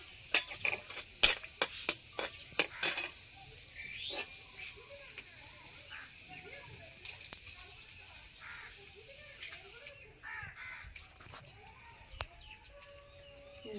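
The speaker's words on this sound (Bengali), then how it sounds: "ফোড়নের জন্য দিয়ে দেব শুকনো লঙ্কা" Dried red chillies sizzle in hot oil in a kadai for tempering, a steady soft hiss broken by sharp clicks and clatter early on, with faint clucking in the background.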